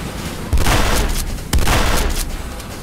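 C4 charges detonating in the video game Renegade, two loud, close booms about a second apart, each followed by a rumbling tail.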